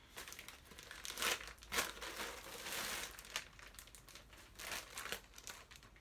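Plastic wig packaging, the wrapping a 12-inch natural-color lace front wig came in, crinkles and crackles as it is handled, with brighter crunchy bursts standing out over steady rustling, close and fairly quiet.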